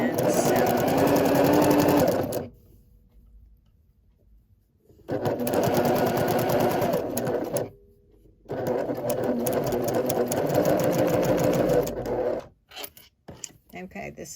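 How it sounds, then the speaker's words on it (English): Sewing machine back-stitching and sewing a mini zipper pouch, three loud sustained runs of fast mechanical stitching separated by short silent pauses, with light handling noises at the end and speech around it. "So we're going to stitch, back stitch,"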